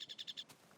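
A quick series of five high, evenly spaced chirps from a blue bird in modded Minecraft, bright and close, followed by a soft puff and quiet.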